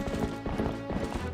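Horse hooves from the video game The Legend of Zelda: Twilight Princess HD play as a quick, rhythmic run of clip-clop footfalls. The galloping is moderately quiet and steady, and no one talks over it.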